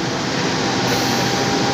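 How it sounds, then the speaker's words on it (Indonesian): A test train with an executive-class rake rolls into Wates station, a loud, steady broadband rumble and hiss filling the whole short stretch without a break. "Inilah suasana uji kereta dari Depo Induk Surabaya,"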